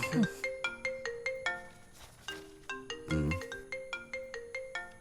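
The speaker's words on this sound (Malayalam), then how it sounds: "അജി, ഇവളെ വീട്ടുകാരെ കൂടെ വിളിക്ക്." A phone ringtone in a Malayalam movie scene plays as a repeating melodic pattern of bright electronic tones, clear and fairly close, with a brief voice or noise partway through.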